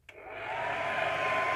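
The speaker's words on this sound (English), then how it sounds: "So I got a hair dryer, and don't put it on high, put it on medium and heat it up a little bit" A hair dryer running on medium heat, warming the circuit board of a Seagate ST1000DM003 hard drive, gives a steady close airflow whoosh with a motor hum after a short click as it switches on, and no voices.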